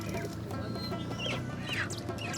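Farm chickens crowded on a truck from Jalalabad in Nangarhar, clucking and squawking in a steady busy jumble over dense outdoor noise, with no talking.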